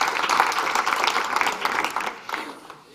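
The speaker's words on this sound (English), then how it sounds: "A big applause to Haley and also to Thomas that is in the other room." A crowd applauds, dense clapping that stays steady and then fades out toward the end.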